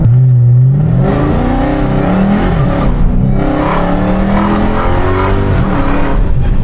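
Dodge Hellcat widebody car engine revving hard and blipping through downshifts, its pitch rising and dropping repeatedly, loud and close throughout.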